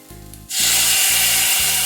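Water poured onto frying ground coriander and cumin with ginger-garlic paste in a pan for a bitter gourd curry bursts into a loud, sustained, hissing sizzle right after a brief quieter moment, with a low rhythmic hum beneath.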